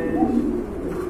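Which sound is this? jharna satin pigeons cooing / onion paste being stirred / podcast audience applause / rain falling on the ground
jharna satin pigeons cooing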